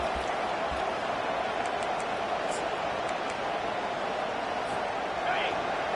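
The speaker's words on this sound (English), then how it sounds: "This crowd bringing the energy and noise early." A football stadium crowd at a Texas vs Auburn game keeps up a steady, dense roar of cheering and voices that fills the air evenly, with no single voice standing out.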